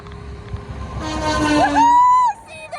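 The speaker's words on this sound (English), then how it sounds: "I'm trying to get him to honk his horn" A passing vehicle on a roadside along Lake Okeechobee in Florida sounds a long, loud horn blast of about a second. Its pitch drops as it goes by, over steady road rumble, then it cuts off.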